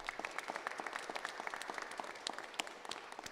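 Applause from the audience at a Providence city council meeting, honoring the city councillors: a steady patter of many hands clapping at moderate distance, with no voices over it.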